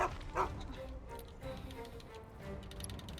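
Dog named Salmon in Final Fantasy VII Rebirth giving a couple of short yips and barks near the start, then faint whimpering under quiet background game sound.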